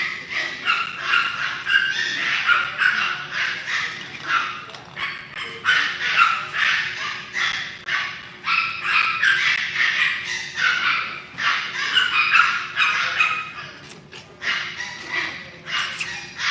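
Several Yorkie puppies yap and bark in quick, overlapping bursts throughout, high-pitched and close, with occasional whimpers mixed in.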